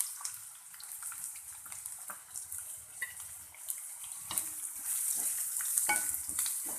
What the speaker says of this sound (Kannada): ಈರುಳ್ಳಿ ಹಾಕಿ ಫ್ರೈ ಮಾಡ್ಕೊಳ್ಳೋಣ.